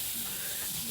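Kitchen pressure cooker releasing steam, a loud, continuous close-up hiss that stays steady and unbroken throughout.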